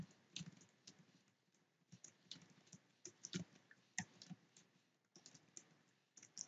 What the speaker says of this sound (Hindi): मैं कुछ नंबर एंटर कर लेता हूँ इसी तरह नीचे।